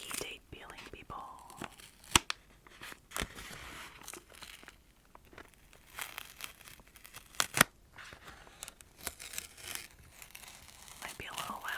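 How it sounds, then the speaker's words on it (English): Sticky tape is peeled in a series of short crackling rips, close-up and soft, interspersed with quiet whispering and rustling in an ASMR setting. "A little bit of tape peeling for all of you sticky tape peeling people."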